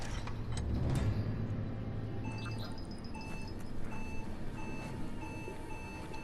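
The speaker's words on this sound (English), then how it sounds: "I don't like how it's beeping faster from there." Repeated electronic beeping in the video game Biomutant, a steady series of short high tones ticking along over a low rumbling game ambience.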